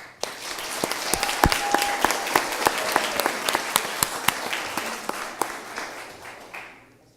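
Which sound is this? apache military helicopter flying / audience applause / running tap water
audience applause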